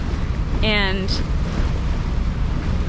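Open Atlantic Ocean heard from a sailboat, with steady broadband wind and wave wash running throughout and buffeting the microphone; someone speaks briefly over it near the start.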